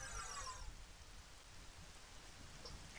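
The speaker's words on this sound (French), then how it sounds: "Ah, ouais, du coup, forcément, il va pleuvoir ici." Steady rain falling in the video game Zelda Ocarina of Time, a soft, constant hiss of raindrops at low level throughout, with no voices over it.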